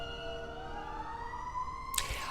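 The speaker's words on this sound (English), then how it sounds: "I hear a lot of sirens all the time" Ambulance siren sounding outside near an old age home, a steady wailing tone that holds through the clip before a brief louder burst of broadband noise near the end; no talking.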